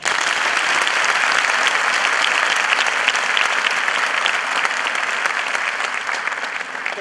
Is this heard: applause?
yes